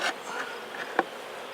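Honeybees buzzing close around a beekeeper during a hive inspection of a wax-moth-troubled hive: a steady, fairly quiet insect drone with passing swells and one brief louder buzz as a bee flies near.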